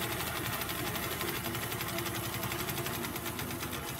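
A longarm quilting machine stitches through fabric with a steady, rapid mechanical chatter and hum that runs continuously at an even level, close by and with no voices.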